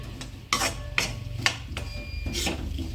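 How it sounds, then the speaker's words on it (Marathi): A spoon scrapes and rasps through roasted gram flour and crushed peanuts in a dry pan, with repeated close stirring strokes at an irregular rhythm. "शेंगदाण्याचा कूट पण त्याच्यामध्ये आपण चांगला परतून घेऊ"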